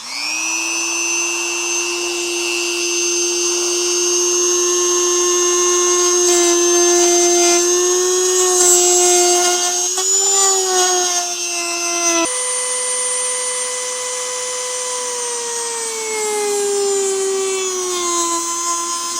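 A power tool whines loudly and continuously while cutting a rectangular opening in a wall for a CAT 6 connection, its high pitch holding steady with a brief shift midway and no talk over it.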